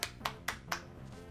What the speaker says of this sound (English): The seal's clapping.